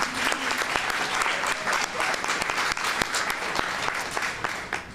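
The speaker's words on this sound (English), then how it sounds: "Another round of applause for them." Audience applause at a ribbon cutting for the First Women's Charter Bank, steady dense clapping filling the whole stretch at moderate loudness with crowd murmur underneath.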